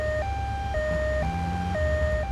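An ambulance siren in GTA III Definitive Edition blares a steady two-tone hi-lo wail, switching pitch about every half second over low engine rumble, loud and close with no talking.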